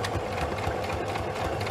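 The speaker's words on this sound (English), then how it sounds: "sorry for the noise of the sewing machine." A sewing machine stitching a zigzag hums and chatters close up, its needle running in a steady fast rhythm with no pauses.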